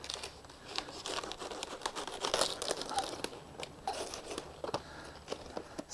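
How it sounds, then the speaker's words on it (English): A knife slices through a head of hydroponically grown cabbage, a series of crisp crunching and crackling snaps as the blade works through the dense leaves, close and fairly loud with no talking. "I'm gonna go ahead and cut this head of cabbage."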